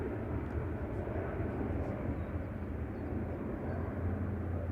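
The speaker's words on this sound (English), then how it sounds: "the only ones that are left are this A380 that's going now, positioning empty back to Dubai." An Airbus A380 departing Manchester Airport, flying empty back to Dubai, gives a steady, deep, low rumble of jet engines, continuous and moderately distant throughout.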